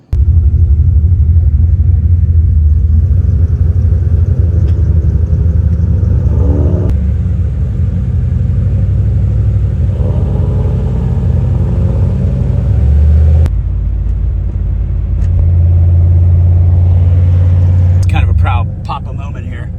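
A home-built Lexus drives on the road to a cars and coffee meet, its engine a steady low rumble heard from inside the cabin, with a few brief rises in revs and people talking over it now and then.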